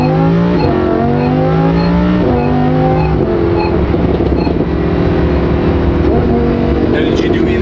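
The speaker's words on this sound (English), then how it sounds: "what I've done new to this car is the exhaust. So that's why it's a lot louder than before" Lamborghini Huracán with a new, louder aftermarket exhaust revving hard up close, repeated sweeping climbs in pitch between gear changes, loud and continuous throughout.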